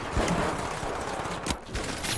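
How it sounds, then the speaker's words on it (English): Video game gunfire: a quick-scoped sniper rifle shot followed by a grenade blast, with sharp loud bursts over a dense, noisy background of battle sounds. "Quick scope headshot, baby, and then the grenade killed the other."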